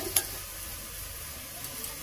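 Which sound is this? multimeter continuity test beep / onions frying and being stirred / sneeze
onions frying and being stirred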